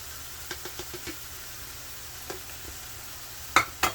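Dry shrimp go into a pan of sizzling tomato, and a steady hiss of frying runs under a series of light taps and clinks from stirring, with two louder knocks near the end.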